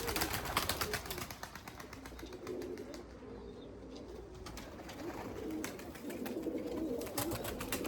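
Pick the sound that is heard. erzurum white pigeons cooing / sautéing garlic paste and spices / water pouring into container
erzurum white pigeons cooing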